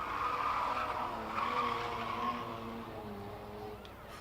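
The number 91 No Limits Motorsports race car on a qualifying lap at La Crosse Speedway, a sustained engine drone with tire noise that rises and then fades slightly as the car moves around the oval.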